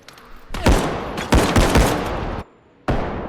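Bursts of automatic gunfire in the game Bodycam, loud and close, firing in several sharp bursts separated by brief pauses before the weapon runs dry, with no speech.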